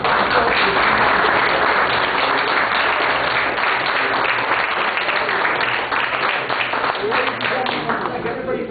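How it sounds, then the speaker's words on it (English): Dense, loud applause from an audience at the close of a county tourism funding meeting, continuous crowd clapping that holds steady for several seconds. "let's give a big round of applause"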